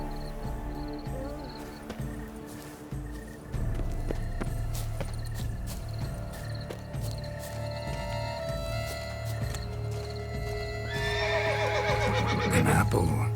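A horse whinnies loudly near the end in The Witcher 3: Blood and Wine, a rising and falling neigh over constant background music and ambient game sounds.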